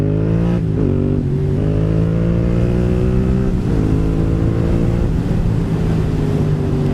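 A KTM 790 Duke motorcycle engine pulls hard through the gears, its revs rising steadily with brief shifts between, loud and close throughout on a mountain pass road.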